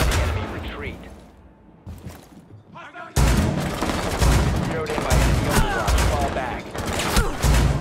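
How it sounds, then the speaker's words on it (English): Gunfire in the video game Rainbow Six Siege: after a quieter stretch with a few shots, loud sustained bursts of automatic fire and booms erupt and continue, close and dense. "I hear gunfire!"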